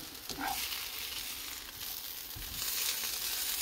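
Seasoned food fries in a shallow layer of oil in a pan, a steady close sizzle with a few soft knocks and scrapes as pieces are turned.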